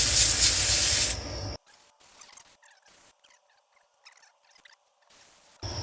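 Oil spray misted onto a motorcycle air filter on a 1999 Suzuki RM 125, a loud hissing burst lasting about a second, followed by quiet rubbing and handling sounds, then another spray hiss at the end.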